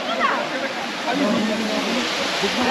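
The waterfall at Elephant Falls in Meghalaya gives a steady, loud, rushing roar of falling water, with a voice talking over it.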